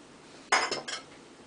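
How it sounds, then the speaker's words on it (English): Two very small pots set down on a stove, three quick metallic clinks and knocks close by against a quiet background, no voices. "So I have 2 pots, very small pots. I'm going to place on medium heat"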